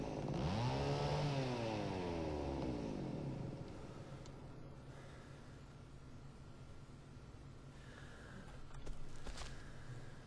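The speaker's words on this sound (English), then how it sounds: "keep your chainsaw to your damn self" A chainsaw roars and revs in the horror video game Cry of Fear, loud and rising in pitch for a few seconds before dropping to a lower idle rumble with a brief flare near the end.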